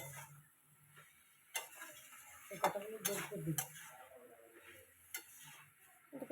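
A spoon stirs and scrapes through a spiced curry in a pan, making faint, irregular taps and scrapes with soft sizzling between strokes.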